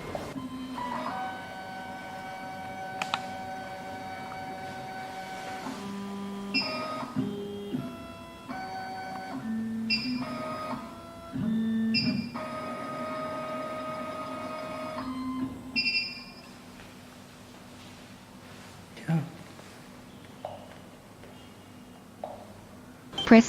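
An Android SEC E9 key cutting machine runs its decoder calibration with a single-sided key clamp, making whirring motor tones, stepping buzzes and mechanical clicks in repeated stop-start sequences, close and moderately loud.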